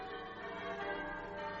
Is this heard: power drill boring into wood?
no